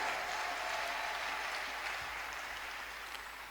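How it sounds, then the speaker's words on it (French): A church congregation at a worship service applauds together in a dense, steady wash of clapping that fades slightly toward the end. "Acclamons très fort."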